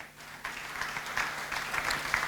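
Clapping from a church congregation starts about half a second in and keeps going as steady scattered applause at moderate level, after a quiet opening.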